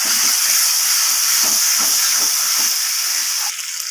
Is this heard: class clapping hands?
no